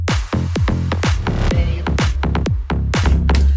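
Electronic track with steady, repeated kick drum hits that sit low and weak in the mix under bright synth stabs and percussion, playing loud with no talk.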